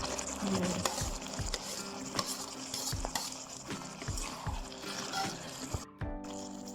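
Stink beans stirred in a wok with shrimp and shrimp paste for Thai stir-fried sator: steady close scraping and clinking of the spatula over a continuous sizzle, with a brief pause near the end and no talking.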